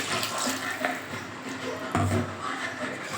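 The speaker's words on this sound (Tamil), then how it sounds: "மிக்சி அலசின தண்ணி" Water used to rinse a mixer jar splashes and gushes into a pot of sambar in a steady pour, with someone speaking over it.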